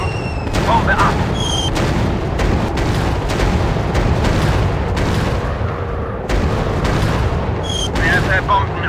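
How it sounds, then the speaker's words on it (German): Bombs dropping and exploding in the WW2 flight game Warplanes: WW2 Dogfight, with Me 262 and Hs 129 B-2 aircraft. Dense, continuous rumbling booms fill the clip under engine noise, and brief voice callouts cut in. "Werfe Bomben ab!"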